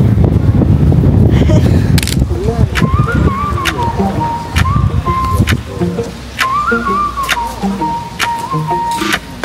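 Strong outdoor wind buffets the microphone with loud low rumbling gusts, most intense at the start, mixed with tonal whistling and scattered background noise.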